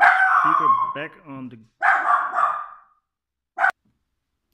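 A dog barks indoors during a loudspeaker modification job: a few sharp barks follow a man's speech, then a single short yip after a brief pause.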